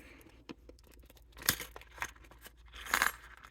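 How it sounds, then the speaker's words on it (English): Metal bead-jewelry links, including gold ballroom links, rattle and clink a few times inside a plastic reusable Ziploc bag as it is handled, with light crinkling of the plastic in between. "this is also a reusable Ziploc bag"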